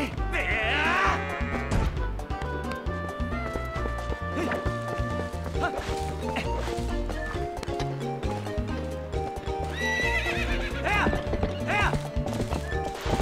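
Goats run in the Zelda Twilight Princess video game, with rapid hoof clatter and bleats over steady game music, loud and continuous.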